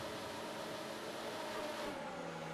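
F1 cars from the F1 2019 video game roar off the line at the Australian Grand Prix, a dense pack of high-revving engines whining together, steady and loud, with no voices.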